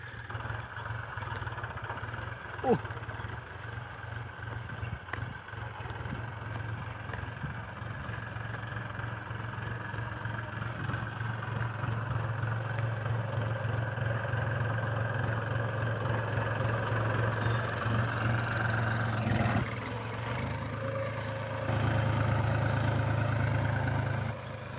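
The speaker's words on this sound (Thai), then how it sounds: "มาไถหน้าครับมาเบิ้งรถไถครับ" A New Holland TT3.50 or Kubota L5018 tractor ploughing a field at night: a steady, close engine drone that grows slightly louder midway and swells again near the end, with no talk.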